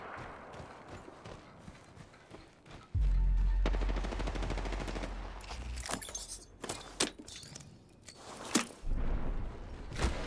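Video game gunfire crackles as sharp, irregular shots amid a deep booming rumble of explosions and battlefield noise, loud and close, with a few brief voices under the din.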